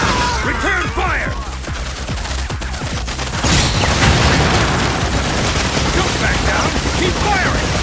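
Rapid gunfire and booming explosions in the arcade shooter Time Crisis Razing Storm, loud dense bursts of shots with heavy blasts layered on top, continuous and chaotic, with shouted voices mixed in.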